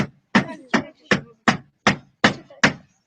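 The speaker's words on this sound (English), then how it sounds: "With that hammer. I think he's trying to make the speaker fit" A hammer strikes a speaker being forced into place with eight sharp, evenly spaced blows, each one a loud, close thwack followed by brief silence.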